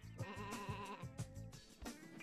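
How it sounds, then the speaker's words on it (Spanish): A sheep in Looney Tunes Sheep Raider lets out a run of close, insistent bleats, several wavering cries in quick succession with no one talking over them. "Es que no hay una forma de que la oveja no chille"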